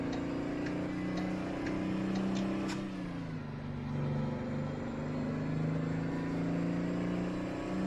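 An old Mack truck engine drones steadily in American Truck Simulator, a low continuous rumble with a slight dip in pitch midway, plus faint ticking in the background and no talk.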